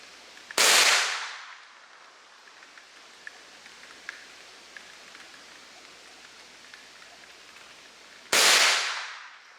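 Two sharp, loud rifle shots fired while zeroing a scope, one early and one near the end, each with a bright crack and a decaying echo, separated by quiet outdoor ambience with faint ticks.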